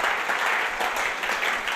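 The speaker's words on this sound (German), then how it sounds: "Geben wir ihnen doch einen recht herzlichen Applaus aus dem Kalkofen raus" Warm applause from a church congregation, steady dense clapping throughout, fairly close and even in level with no talking.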